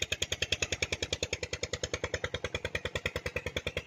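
An old Peter diesel engine runs in an open village field in Punjab, Pakistan, chugging in fast, even, loud thumps at about eight beats per second.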